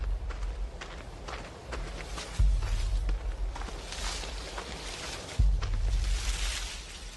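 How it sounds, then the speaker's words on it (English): Footsteps of someone following, from the horror game Outlast 2: a quiet, tense patter of steps on rough ground, with two heavier thuds marking sudden low impacts. "Or the terrifying sound of someone following you in Outlast 2."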